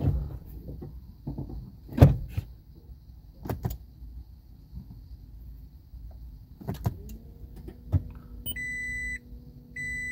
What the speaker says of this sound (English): Open the door, close it.